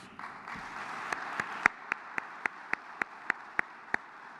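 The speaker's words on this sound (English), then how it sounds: "A round of applause, please." An audience claps at the closing session of a conference, a steady bed of mid-distance applause punctuated by a run of sharp, evenly spaced single claps from someone nearby keeping a regular beat.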